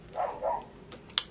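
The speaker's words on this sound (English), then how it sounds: "I do apologize that the dog is barking in the back." Two muffled barks from a dog in the background, then a sharp brief click or knock; quiet and somewhat distant, no speech.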